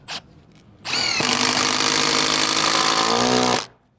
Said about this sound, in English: Let's go and get a drill. Some 4-inch screws.